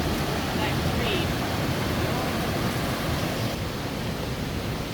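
A creek swollen after Hurricane Helene rushes as a steady broadband wash of water, constant and fairly close, with a brief faint voice early on.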